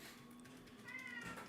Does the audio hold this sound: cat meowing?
yes